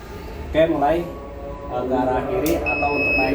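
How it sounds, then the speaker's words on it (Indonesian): An escalator control panel's start buzzer sounds a steady, shrill electronic tone near the end, coming in after someone speaks and continuing to the close. "Saya nyalakan nanti bunyi buzzer ini bunyi ya."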